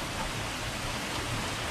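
Steady rain pours down during a fishing trip in Texas, a dense, even hiss of drops with no gaps and no voices.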